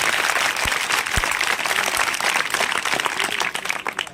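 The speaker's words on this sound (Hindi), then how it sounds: "एक बार तो पहले तो जोरदार तालियां आप सभी लोगों के लिए हो जाए" A crowd of college students and attendees bursts into loud, sustained applause at an awareness event, dense clapping filling the whole stretch with a few sharper claps standing out.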